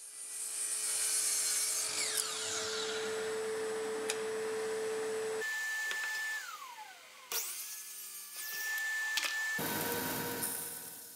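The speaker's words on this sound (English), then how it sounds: "I decided to cut a couple of angles on the feet in an attempt to give the sawhorse a better stance" A power saw cuts angles into the wooden feet of a sawhorse, whining steadily through the wood in a few separate passes with abrupt stops and restarts, close and loud.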